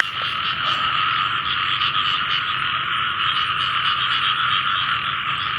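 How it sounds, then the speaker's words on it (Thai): Frogs croaking in flooded rice paddies on a rainy night, a dense continuous chorus of many calls close by, steady and loud with no talk. "เสียงกบเสียงเขียดไข่แล้วนะนี่พี่น้องเถอะ"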